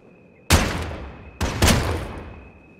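Gunfire in the Worlds Adrift video game: two loud, sharp blasts about a second apart, each trailing off in a rumbling tail over a steady background hum.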